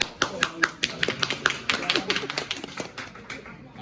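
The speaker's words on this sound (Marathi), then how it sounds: "सगळे टाळ्या वाजवलं बरं" Scattered claps from a group at a college freshers party, irregular and fairly close, with people talking over them throughout.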